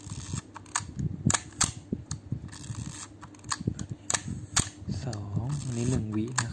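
A Nikon FM2n film camera's shutter fires repeatedly at different speeds, giving a series of crisp, close mechanical clicks at uneven intervals. Someone talks quietly between and over the clicks.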